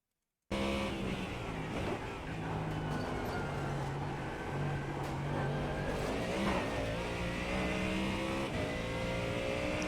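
Ford Mustang GT3 race car engine held at full throttle at the Nürburgring Nordschleife in the iRacing sim, a steady loud droning roar that climbs through the revs with no break for nearly ten seconds.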